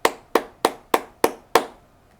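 Six sharp hand claps land at an even pace, close and crisp, each with a short decay, counting out a group of eighth notes in a music-reading lesson.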